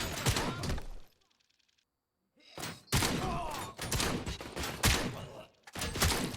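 Shotgun blasts in the video game RoboCop: Rogue City, several loud booming shots with rattling impacts, separated by a brief near-silent pause, with no talking.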